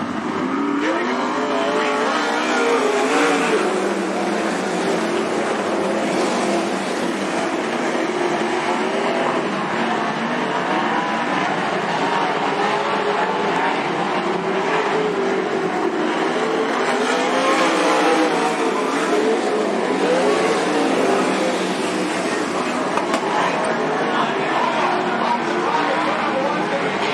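Race cars come out of turn four at Cottage Grove Speedway, a dense, steady roar of several engines at speed that stays loud throughout, with a public-address announcer calling the race over it.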